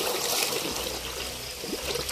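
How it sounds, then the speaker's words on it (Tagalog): Water from a natural spring flows steadily in a continuous close trickling stream, with no voices over it. "bago yung tubig kasi nga ayan umaagos siya"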